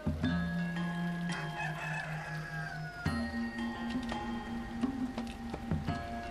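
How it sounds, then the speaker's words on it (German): Chickens and a rooster in the video game Eastshade crow in a couple of drawn-out calls with soft clucking around them, clear and fairly close against a quiet background. "Hühner."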